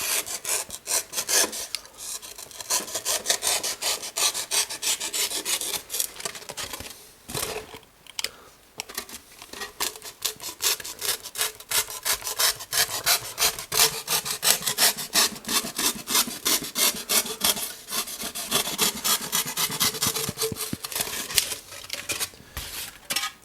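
A sharp knife cuts a bevel in a hobby workshop, making steady, close scraping and rasping strokes that run almost continuously, with brief pauses and no talking.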